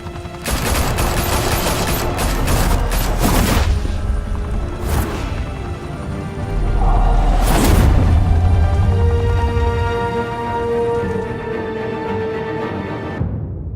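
Video game gunfire in a Batman Telltale Series scene, loud rapid volleys of shots with booming impacts and crashes, dense at first, swelling again midway, then trailing off into a fading rumble.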